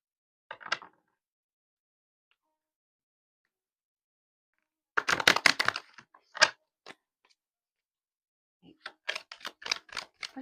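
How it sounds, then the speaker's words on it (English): Short crisp bursts of riffling and flicking, as a deck of cards is shuffled in a few separate quick runs with quiet pauses between. "I'm just going to give these one more shuffle."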